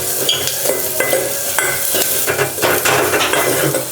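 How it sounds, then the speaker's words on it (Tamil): A spoon stirs curry leaves, onion and crushed garlic sautéing in a pan for rasam, giving close, busy scraping and clinking over a continuous sizzle, with no voices. "நல்லா வதக்கி விடலாம்."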